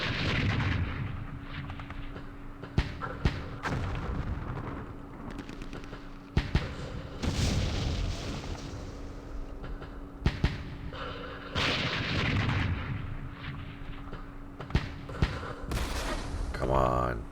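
Artillery fire in the Vietnam wargame Campaign Series Vietnam, during a Dien Bien Phu battle, booms out as a series of sharp, heavy reports and rumbling blasts spaced through a steady background, with someone talking over it at times.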